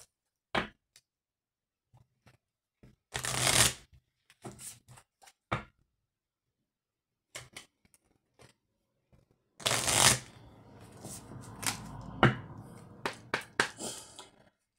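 Tarot cards riffled and cut in quick bursts of crisp shuffling, with a few soft taps and card snaps in between, close and fairly quiet, with no voices.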